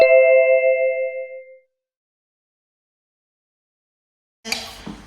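A harsh-sounding two-tone doorbell chime in a home in Montenegro rings once and fades out, followed by silence, then a brief burst of rustling noise.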